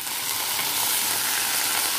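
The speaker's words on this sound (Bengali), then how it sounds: "বাটার জলটা ধুয়ে এতে দিয়ে দিলাম।" Water swirled from a bowl is poured into a hot cooking pan, producing a continuous close hiss and sizzle that holds steady for the whole stretch, with no talking.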